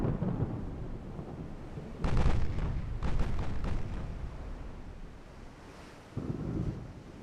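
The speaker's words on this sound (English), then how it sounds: "Those are the 8-inch casement guns," 8-inch casemate naval guns firing in Ultimate Admiral Dreadnoughts, heavy rumbling booms in a few separate bursts over a continuous low, wind-like background roar.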